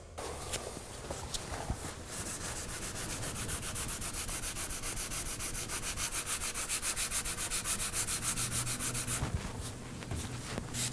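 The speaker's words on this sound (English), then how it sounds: "So we're gonna keep sanding this area until that scratch starts to feather out." Sanding a scratch on a Ford Fusion fender ahead of an aerosol spot repair: steady, continuous abrasive rubbing strokes in a close, even rhythm for the whole stretch, with no talking.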